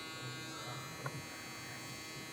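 Stylecraft Instinct trimmer running with a steady, faint electric buzz, held briefly and quietly with no talk over it.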